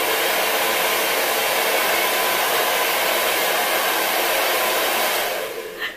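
A hair dryer blows loudly and steadily with a broad rushing whoosh, then cuts off near the end, leaving a brief quieter tail.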